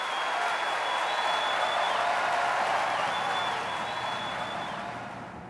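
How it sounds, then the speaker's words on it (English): Enthusiastic applause from an opera audience as the cast takes its bows, a dense steady wash of clapping that stays even, then slowly fades toward the end, with no talking over it. "As the cast takes their bows, there is enthusiastic applause."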